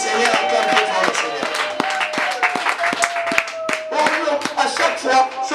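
A church congregation claps in rhythm while praising the Lord: steady, loud hand claps with sharp regular beats, mixed with voices singing or calling out.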